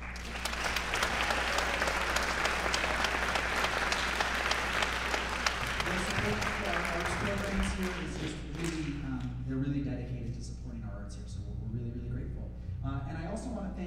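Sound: audience applause at a school orchestra concert

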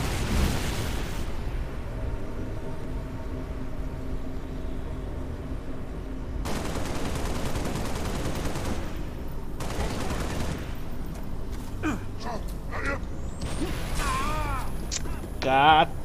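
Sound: gunfire in the video game Halo Reach

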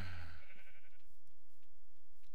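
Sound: sheep bleating in Minecraft video game

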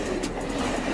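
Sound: diesel train

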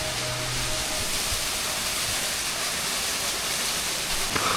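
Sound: small waterfall on a hill trail in Bandarban

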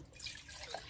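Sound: water being poured into a pot for noodles

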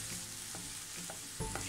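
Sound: sautéing in a pan for kai pola

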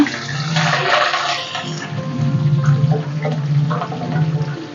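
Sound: green chillies frying in hot oil

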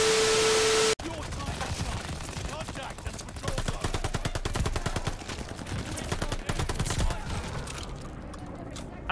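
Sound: MP40 submachine gun gunfire in Call of Duty Vanguard video game

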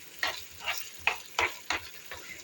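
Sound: minced meat filling cooking in a pan

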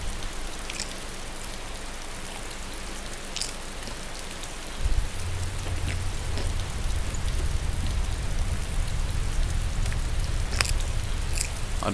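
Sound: rain in the video game DayZ

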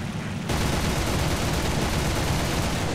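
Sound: Fw 190 A-5 firing its guns, from the video game War Thunder

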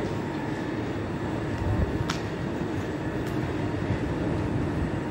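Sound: long train passing at station

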